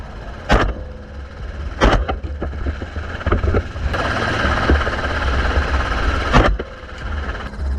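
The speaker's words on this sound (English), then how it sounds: "Through the roaring engine noise" A constant droning aircraft engine roar fills the background, broken by a few loud, sharp cracks of .223 Remington rifle shots fired from the aircraft at wild boar, spaced seconds apart.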